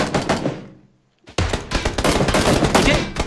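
Loud bursts of gunfire in PUBG, a rapid volley that fades out, a brief pause, then a sharp blast followed by sustained dense automatic fire.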